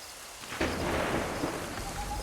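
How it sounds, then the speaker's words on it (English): A thunderstorm in Assassin's Creed sends a deep rumble of thunder crashing in over steady heavy rain, loud and rolling, then easing back into the hiss of rainfall. "This storm's getting worse."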